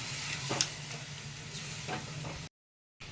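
A soybean and potato curry sizzles and hisses in a pan as water from rinsing the spice bowl goes in, a steady frying crackle with a few sharper splashes, followed by a brief silence.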